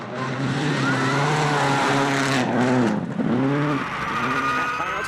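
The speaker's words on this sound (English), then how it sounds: "The Subaru's Boxer engine has always historically run well" Subaru rally car with a Boxer engine at full throttle on a World Rally Championship stage in Mexico, a loud continuous engine roar with rising and falling revs and gear changes as it passes close by.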